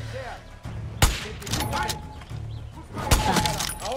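Two sharp, loud gunshots about two seconds apart ring out in the video game Far Cry 6, set against a busy game soundscape with a voice talking.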